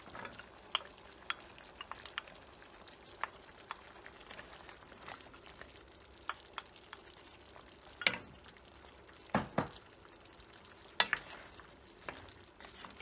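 Potato and carrot pieces sauteing with chicken in a pan for Filipino chicken curry, a soft steady sizzle with scattered sharp clicks and scrapes of stirring, louder clatters near the end, no talking.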